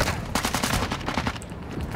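Rapid automatic gunfire in Call of Duty DMZ, a fast, evenly spaced string of sharp shots lasting about two seconds, fairly near and continuous.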